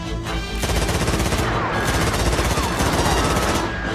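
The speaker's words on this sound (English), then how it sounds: "Battle mode! Everyone open fire! Give them all you got!" Cartoon gunfire erupts in a dense, loud battle barrage, with rapid overlapping machine-gun bursts and blasts running continuously after a brief lead-in, over a busy effects mix.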